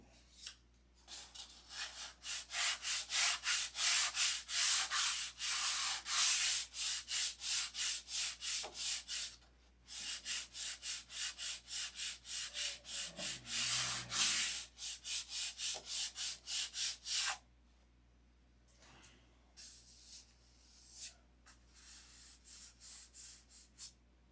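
Rhythmic back-and-forth sanding on a Junar 600, strokes of abrasive rubbing the wood in fast steady bursts with brief pauses between runs, close and loud with no talking.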